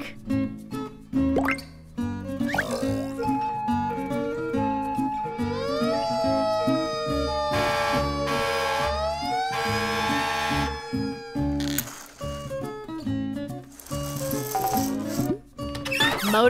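A truck siren whoops in long upward sweeps through the middle, loud and close, over playful background music.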